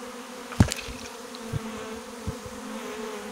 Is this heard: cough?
no